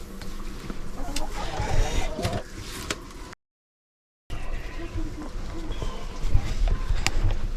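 Chickens in a coop cluck and squawk in scattered bursts, close by, with rustling and shuffling around them and a short silent gap partway through.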